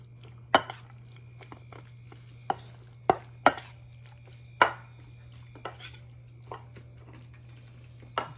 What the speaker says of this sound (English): we're gonna mix that around so we can moisten that meat